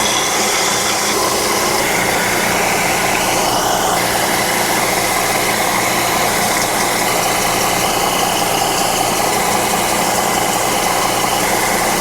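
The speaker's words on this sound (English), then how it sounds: "now let's go ahead and sand it down with the belt sander to get it flat and smooth." Belt sander with a worn belt flattening and smoothing a wood piece, a steady loud broadband grinding drone with a low motor hum running continuously throughout.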